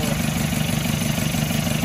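A passenger jeep engine with its cover off idles in a steady, even rumble, close and continuous, with no voices over it.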